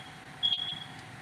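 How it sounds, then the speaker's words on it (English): A smoke detector gives a single short, high electronic chirp over a faint room background, with no voices. "I'm sorry for the beeping"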